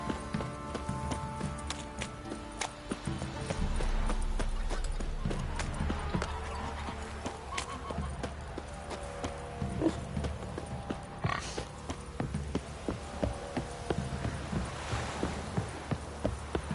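Hooves of Roach, the horse in The Witcher 3: Wild Hunt on PS5, clop along at a steady pace for the whole stretch, with game music and some talk over the top.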